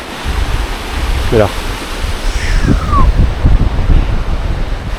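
Rushing water where two mountain river gorges meet gives a broad, steady roar mixed with wind buffeting the microphone, while a person speaks briefly over it.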